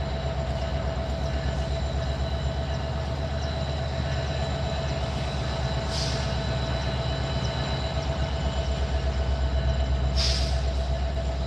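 A Metra commuter train rolls past with a continuous heavy rumble and rail clatter. Two brief high squeals cut through near the middle and the end.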